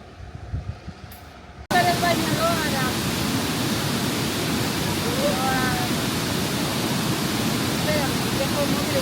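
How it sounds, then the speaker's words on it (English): After a brief quieter moment, a loud, steady roar of a waterfall at Doi Inthanon, Thailand, starts abruptly and continues unbroken, with faint chirps above it. "We got to come into some very cool waterfalls"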